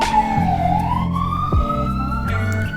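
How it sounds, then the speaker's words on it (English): A police siren wails continuously outside a window, its pitch sweeping down then rising and holding, loud and close, with traffic rumble and a brief thump underneath. "I apologize for the sirens and the cars."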